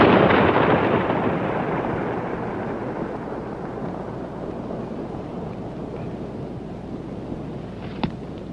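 Explosive detonation blasting craters at Flagstaff, Arizona, heard as a broad roaring rumble that fades slowly into a long outdoor hiss with wind noise, and a small sharp pop near the end.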